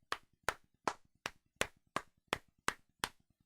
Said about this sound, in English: Let's clap for Susan Messino.